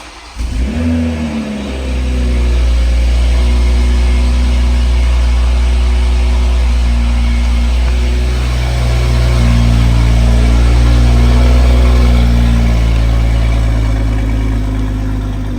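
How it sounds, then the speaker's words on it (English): A BMW G42 with an aftermarket downpipe fires up from a cold start. A sharp, loud starter catch and flare settle into a deep, steady, rumbling idle heard up close, swelling slightly partway through. "getting in the car to get it started up"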